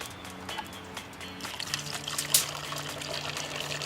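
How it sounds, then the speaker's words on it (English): Water pours and trickles into a clear plastic or glass container, a soft, steady splashing stream that builds slightly, fairly quiet and heard alone. "simply fill clear plastic or glass containers with your water"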